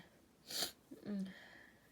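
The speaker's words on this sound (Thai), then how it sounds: "โอ้ยจะจามแล้วค่ะทุกคน" A single sharp sneeze bursts out close to the microphone, followed by a brief breathy snort or sniff as the person recovers, in an otherwise quiet room.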